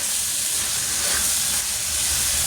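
Chopped tomatoes and curry leaves sautéing in a pan for a chicken curry, a loud, steady hissing sizzle heard close up and alone.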